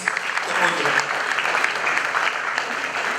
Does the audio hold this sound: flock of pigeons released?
no